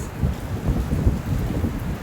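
Heavy rain pours steadily onto a roof deck in a dense, noisy wash, with a low rumble underneath.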